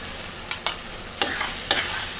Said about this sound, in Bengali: দ্রুত নাড়াচাড়া দিতে হবে, নাহলে কিন্তু এক জায়গায় দলা হয়ে যাবে।